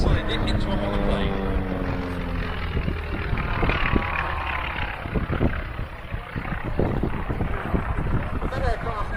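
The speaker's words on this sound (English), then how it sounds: "Robert conceived the F4F as a biplane" A Grumman F4F Wildcat propeller aircraft at the Duxford airshow drones steadily with a rough engine hum, while a commentator talks over it.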